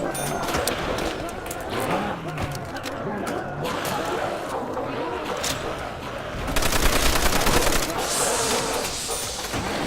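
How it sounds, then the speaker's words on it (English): Rapid gunfire from Call of Duty: World at War zombies mode, dense bursts of shots running continuously over busy game noise, with a sharper, louder stretch of firing near the end. "Why am I shooting 3 times and reloading?"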